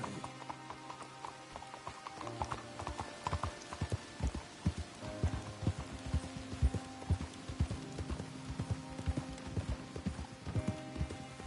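Steady rhythmic clip-clop of horse hooves at a trot in the video game Red Dead Redemption 2, close and clear, over a low ambient hum.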